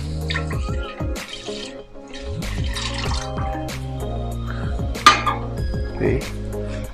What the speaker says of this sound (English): We're going to add the milk.